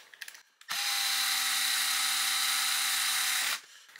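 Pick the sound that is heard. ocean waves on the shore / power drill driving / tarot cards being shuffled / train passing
power drill driving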